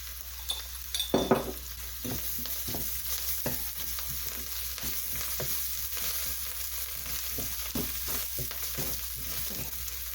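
Spices sizzling gently in a pan with oil for cumin chicken, a soft continuous fry punctuated by a cluster of clinking utensil taps early on and light scattered stirring knocks, no voices.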